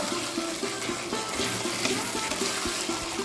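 Meat gravy with spice paste sizzles and fries in oil as it is stirred, giving a steady, close hiss with scraping from the stirring.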